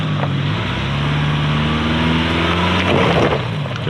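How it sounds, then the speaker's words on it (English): A Ford Bronco Everglades engine revs up under throttle while climbing an off-road hill, a loud, steady low drone with rising harmonic tones that stays strong for the whole stretch. "We're going to give it some more throttle, and it's just up and over."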